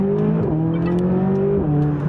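A McLaren 570S engine accelerates up through the revs, a strong close drone that climbs in pitch, dips briefly at a gear change and climbs again, with no talk.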